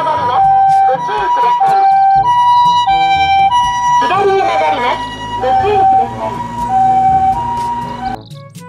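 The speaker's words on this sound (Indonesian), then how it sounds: "Mobil ambulans." An ambulance siren wails loudly with alternating tones close by, mixed with a vehicle rumble and some clutter, continuing throughout and fading slightly near the end.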